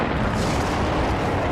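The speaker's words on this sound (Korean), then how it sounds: "그 결과 고래가 폭발했습니다." A cartoon explosion of a giant dinosaur whale, a dense, loud, continuous roaring blast filling the whole short moment without pause.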